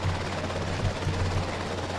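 Helicopter in the EmergeNYC video game, an NYPD rescue chopper, gives a steady low rotor drone with a faint pulsing beat, loud and constant throughout.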